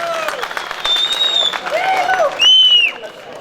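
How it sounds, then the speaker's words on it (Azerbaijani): A crowd at a wedding night with meyxana poetry duels claps and cheers, the applause rising under a voice talking and then swelling loudly near the end. "Bir alqışlayan onları."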